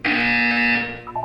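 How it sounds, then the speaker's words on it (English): A loud, harsh buzzer from the video game Portal 2 sounds once in a single sustained tone for under a second, then cuts off, leaving a faint trailing tone. "You will hear a buzzer."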